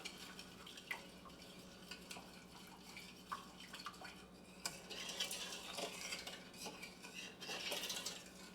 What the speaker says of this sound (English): we're going to stir all that around. Definitely want to make sure we get lumps out.